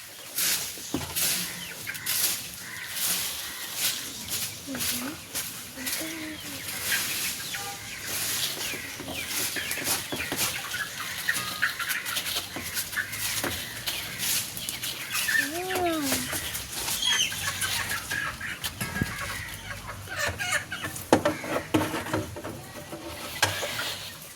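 Chickens and young chicks in a backyard poultry setup cluck and cheep now and then, with a few clear peeps standing out amid steady handling noise and background clatter, and a voice talking intermittently.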